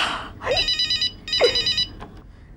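An old-style telephone bell rings in two separate bursts of rapid trilling, each roughly half a second long with a brief pause between, followed by a quieter tail.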